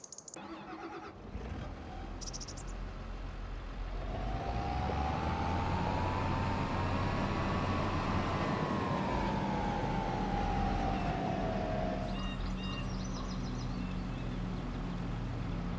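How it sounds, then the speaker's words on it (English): Tractor driving in the video game Farming Simulator 25, a continuous low engine drone with a rising then falling whine as it accelerates and settles, with brief clicks at start and end. "We'll go back on the tractor."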